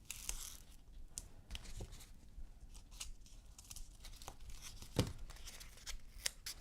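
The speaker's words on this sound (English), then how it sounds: "I'm going to use some tape on that" Double-sided tape pulled and torn while assembling a beach-themed scrapbook layout, giving a run of soft ripping and crinkling sounds close by, with one sharper tear near the end.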